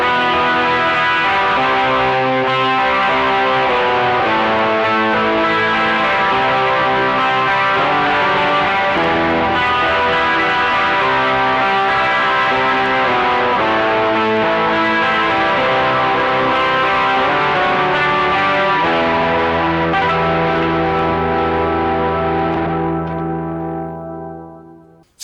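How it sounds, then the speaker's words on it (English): An electric guitar runs through a boost pedal and a Mosaic pedal on a Boss ES-8 switcher board, giving a loud, dense, shimmering sustained wash of chords that rings out for about twenty seconds and then fades away. "boost again for the end section and the mosaic, which sounds like this."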